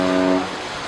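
Deep, steady horn blast from a supertanker off the Isle of Wight, England, held loud for about half a second before cutting off and leaving open sea and wind noise behind it.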